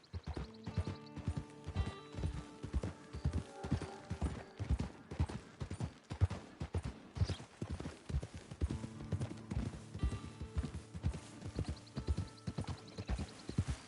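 Horse hooves clip-clop at a steady walking rhythm, crisp repeated knocks close by with a faint background tone and no talk over them.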